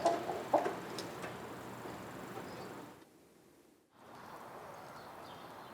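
Chickens clucking, as city backyard birds: two brief, faint clucks right at the start, then a long stretch of quiet ambience with a short dip into near-silence.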